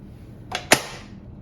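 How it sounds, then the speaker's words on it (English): Cover of a vintage sewing machine set back in place: a short scrape followed by a sharp, solid knock, close and brief against a quiet room. "Okay, for now I'm going to put the cover back on."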